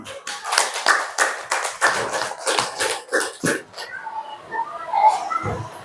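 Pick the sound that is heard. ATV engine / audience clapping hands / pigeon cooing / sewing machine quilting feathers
audience clapping hands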